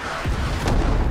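An artillery strike in the video game Rising Storm 2, a low rumbling boom with a thudding impact midway, heavy and continuous across a brief moment without talk.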